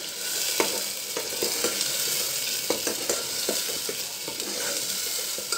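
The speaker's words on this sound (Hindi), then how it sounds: "जो हमने पेस्ट बनाया है, ये इसे चला देंगे बस थोड़ा।" Homemade spice paste for razma fries in a pan under a steady loud sizzle, with a spoon stirring and scraping in irregular strokes throughout; no talk.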